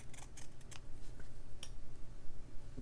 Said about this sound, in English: I'll cut it roughly down to size until I see what size I want to use